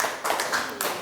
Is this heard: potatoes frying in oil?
no